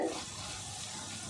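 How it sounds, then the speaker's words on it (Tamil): Curry leaves fry in oil in a pan, a soft continuous crackling hiss heard up close with a brief louder burst at the start. "அதில் அப்படியே கொஞ்சம் கருவேப்பிலை மாத்திரம் வறுத்து போட்டு"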